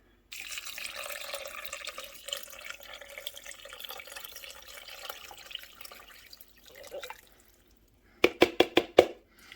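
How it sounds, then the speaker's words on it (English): Broth pours from a container into a cooking pot in a home kitchen with a continuous liquid splash that fades out. Several sharp knocks follow close by, like the container tapping against the pot rim. "the first thing I'm going to do now is to add 2 quarts of broth"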